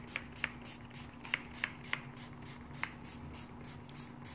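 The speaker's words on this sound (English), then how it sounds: "I'm spraying this spray margarine, or butter." Spray margarine misted over the top of a peach cobbler crust, heard as several short, soft hissing spurts at an uneven rhythm over a low steady background hum.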